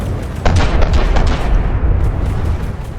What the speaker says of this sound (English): the Zeus uses its cannons to destroy some armor, hopefully some critical components